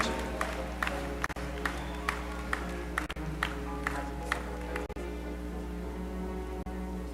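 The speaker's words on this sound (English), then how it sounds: "I invite a round of applause for the candidates for the Associate of Science degrees" Graduation commencement ceremony applause for associate degree candidates, a faint steady crowd clapping heard from a distance under a constant low hum, with a few sharp clicks.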